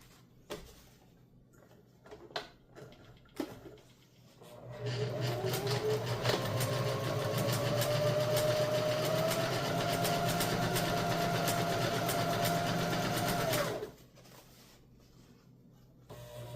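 A sewing machine stitching a beginner's tote bag runs in one steady, loud whirring burst of about nine seconds, its motor pitch rising slightly, preceded and followed by scattered clicks and handling noises.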